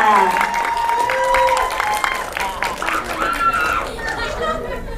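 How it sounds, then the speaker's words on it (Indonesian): Premiere crowd applauding the film director of Kutukan Sembilan Setan, steady clapping mixed with loud chatter and voices throughout, near and continuous. "Tepuk tangan dong untuk sutradara kita."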